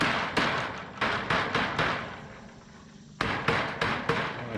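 Rubber mallet hammering a pet fence into place outdoors, a series of sharp, fairly close thuds in quick runs of several blows, a short pause, then another rapid burst of strikes.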